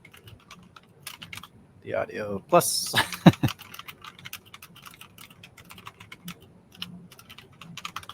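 Quick clicking keystrokes on a computer keyboard during a live stock-trading session, light and irregular, running under a man's speech through most of the stretch.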